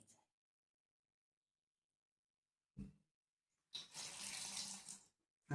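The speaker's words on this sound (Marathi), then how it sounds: "आणि थोडं पाणी टाकून घ्यायचं" Water is poured into kneaded flour dough that already has oil worked in, for a traditional Sankranti meal: one short splashing pour after a brief knock, with quiet around it.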